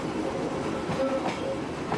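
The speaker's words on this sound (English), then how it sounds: "the train starts its long uphill climb to Otira." Train hauling coal and pine log wagons on the West Coast line toward Otira, rumbling steadily along the rails with faint wheel clatter, moderately close, no voices.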